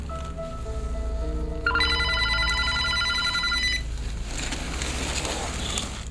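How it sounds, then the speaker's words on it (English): An old unplugged telephone rings with a bright mechanical bell, a sustained metallic ring after a low hum, then fading into noisy static. "That phone's not even plugged in, bro. Answer it, man."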